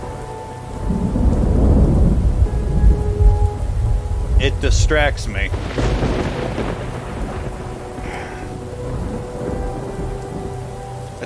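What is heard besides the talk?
thunderstorm and rain in video game Fractured Minds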